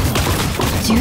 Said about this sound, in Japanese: 銃声が聞こえた。